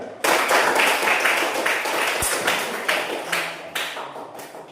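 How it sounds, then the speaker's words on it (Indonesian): A classroom of pupils claps their hands for a classmate in a series of sharp, loosely rhythmic bursts of fairly loud, close clapping. One harder thump sounds midway, and no one speaks. "Tepuk tangan untuk dia."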